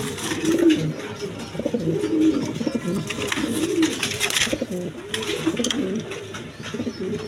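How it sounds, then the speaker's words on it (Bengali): Imported pigeons coo repeatedly in a low, throaty rolling rhythm, close by, with several birds overlapping against a faint background. "এটা ইম্পোর্টের কবুতর"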